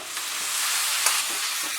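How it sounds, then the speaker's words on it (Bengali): Chopped tomato goes into a hot pan with sambar masala, giving a steady, close broadband sizzle with a brief louder crackle partway through and no talking. "এবারে এর মধ্যে আমি টমেটো কুচিটা দিয়ে দিলাম।"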